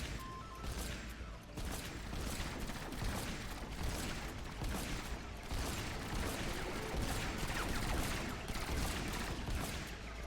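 Rapid automatic turret gunfire in the Fortnite Save the World mission Hit the Road, escorting Penny. The shots come in a dense, continuous stream of sharp reports with mechanical clatter, loud and steady from start to finish.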